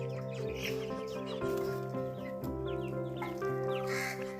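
Chickens cluck and call steadily at a home farm, with ducklings nearby among spilled chicken feed; the dense layered fowl sounds stay fairly even and close throughout, with no talking.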